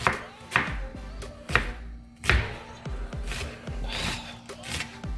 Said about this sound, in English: I'm just doing a nice little chop on this onion